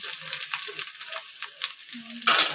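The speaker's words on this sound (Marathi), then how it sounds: "बारीक गॅसवर चांगला भाजून घ्यायचा कांदा, कढीपत्ता आणि लसूण." Onion, curry leaves and garlic frying in oil over a low flame, giving a steady soft sizzle with faint stirring, then a brief sharper crackle at the end.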